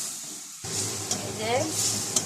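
Spices are sautéed in a pan ahead of adding bottle gourd, giving a steady sizzle of frying that starts abruptly, with light stirring scrapes and a couple of sharp clicks, close and fairly loud.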